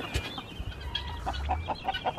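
Chickens and roosters clucking nearby in short, uneven bursts, a few birds calling over one another with a low rumble beneath.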